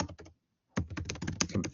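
Rapid typing on a computer keyboard, a short burst of clacks followed by a pause and then a dense, steady run of keystrokes close to the microphone, with no voices.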